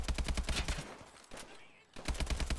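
Rapid automatic gunfire in Call of Duty: Advanced Warfare, dense bursts of shots close and loud, briefly pausing mid-clip before resuming, with no voices over it.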